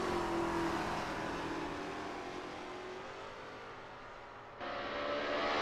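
Lola T70 MkII Spyder race cars in a racing video game at Bathurst, engines droning steadily at high revs with a sudden louder surge near the end, no voices.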